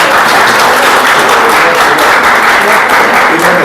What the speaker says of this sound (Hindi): जोरदार ताली बच्चों एक बार